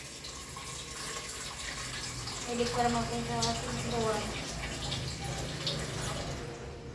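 Tap water runs steadily into a cooking pot in a home kitchen, a continuous soft splashing rush with people talking over it.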